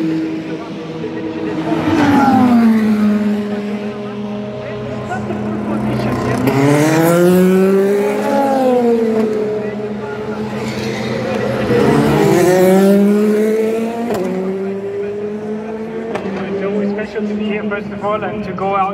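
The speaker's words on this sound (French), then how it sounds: "the Ferrari, if you're looking for that, number 51, that's on its way out onto circuit" Race cars in practice at the 24 Hours of Le Mans, including the number 51 Ferrari, with loud engines revving up and down through gear changes as cars pass close by, under a commentator speaking throughout.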